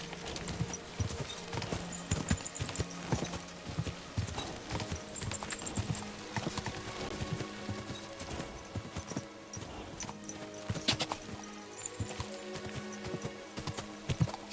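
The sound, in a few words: horse hooves clopping in a video game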